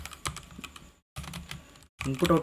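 Keys clatter on a computer keyboard in quick, close bursts of typing, separated by two short silent pauses, with a faster flurry of keystrokes at the end.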